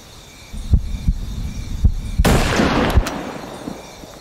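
A rifle fired at a bison in Hunting Simulator 2: a single loud, sharp crack with a broad, trailing boom comes midway, after several dull, low rhythmic thumps.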